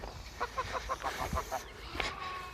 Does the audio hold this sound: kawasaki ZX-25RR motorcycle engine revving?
no